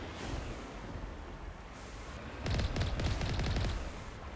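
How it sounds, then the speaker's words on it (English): Gunfire in Mass Effect Legendary Edition, a faint rattling burst of rapid shots standing out briefly over a hissing ambient background, no talk. "I'm just shooting anything that moves"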